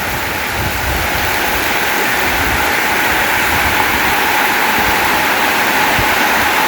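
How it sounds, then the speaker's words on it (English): Storm water pouring down heavily at a drainage area, a steady, loud, unbroken rushing roar like a waterfall, close by and with no voices over it. "look at the water coming down here"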